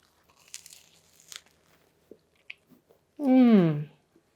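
A person chews a bite of an Italian keto sausage roll, giving soft, close, wet crunches at uneven moments, then hums an appreciative voiced "mmm" near the end.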